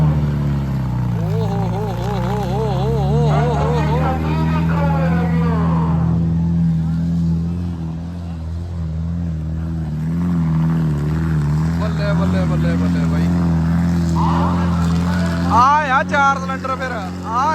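A heavy four-cylinder tractor engine drones and revs nearby at a village trolley-pulling competition in Nandpur, rising and falling over a constant low rumble, with occasional speech over it.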